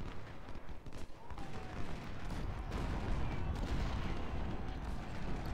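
Civil War musket fire in the Ultimate General Civil War video game, a faint, continuous crackle of distant volleys and scattered shots rolling under a low battle rumble.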